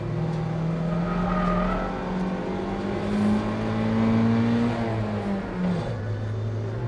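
A roadster race car engine drones loudly and steadily at high revs, its pitch climbing slowly before dropping sharply near the end as a gear change goes wrong, with no voices.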